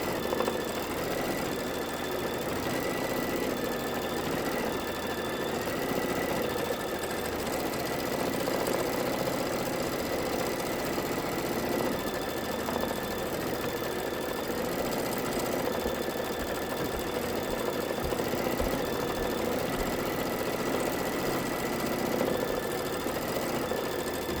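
A sewing machine stitches a double pinwheel quilt block, running as a continuous, even mechanical whir and hum at close range for the whole stretch, with no pauses or talk.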